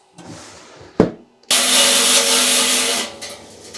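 A rock saw cuts into a Lake Superior agate, a short burst and a sharp knock giving way to a loud, steady grinding whine that runs for about a second and a half before stopping.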